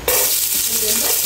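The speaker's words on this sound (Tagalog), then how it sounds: "At yan po tayo magigisa na." Garlic hitting hot oil in a pan while cooking beef mami, an immediate loud sizzle that holds steady and close for a brief moment, with a faint stir underneath.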